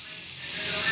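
A whole onion sizzles in a frying pan, giving a steady, bright hiss of hot oil that swells slightly over a brief moment.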